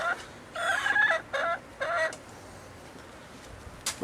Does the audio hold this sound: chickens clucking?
yes